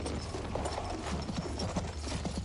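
Horse hooves in the video game Battlefield 1 clip-clop in a steady, fairly quiet rhythm over a dense, noisy ambient bed, no talking.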